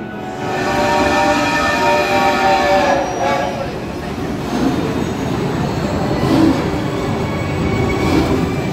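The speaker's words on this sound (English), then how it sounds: "It's a chaga chaga choo choo." A theme park train ride at Universal Orlando rumbles steadily along with a dense, grinding roar and faint squealing tones, while a voice can be heard over the noise.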